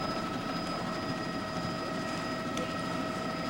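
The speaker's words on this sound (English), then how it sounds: "hovering that helicopter in that column of heat" A helicopter hovers over a 1999 Atlanta crane fire, its rotor and engine making a steady, unbroken drone with a constant whine throughout and no voices.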